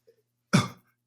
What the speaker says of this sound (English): Battling a cough.